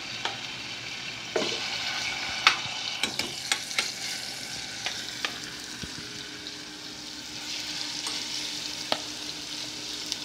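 Chicken sizzles steadily in a hot pan, with occasional scraping stirs and small pops over the continuous frying hiss.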